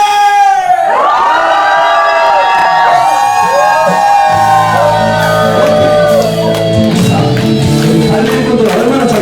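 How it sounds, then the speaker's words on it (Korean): A crowd at a church charity concert roars together in a loud collective shout and cheer, sustained and dense, with high whoops and children's voices mixed in. "자, 다 같이 함성!"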